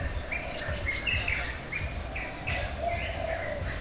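A bird repeatedly calls with short, rising chirps and whistles at an irregular pace, fairly close, over a constant wind-like rush and low rumble of surf.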